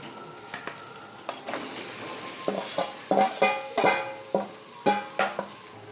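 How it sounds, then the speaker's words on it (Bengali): Mutton pieces tipped from a covered pot into hot frying masala for kosha, with a steady sizzle under repeated clanks and scrapes of a spoon against the pan. "আমি খুলে নেবো, দিয়ে ঢেলে দেবো মশলার মধ্যে দিয়ে দেবো"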